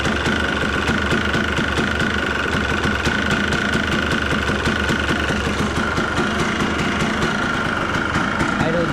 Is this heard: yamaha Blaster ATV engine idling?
yes